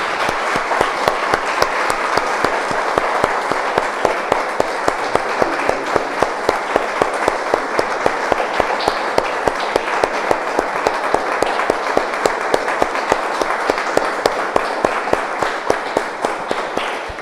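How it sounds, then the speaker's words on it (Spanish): A crowd claps steadily and loudly for a long stretch, a dense, even patter of many hands with no voices above it. "Damos un aplauso, hermanos, al Señor."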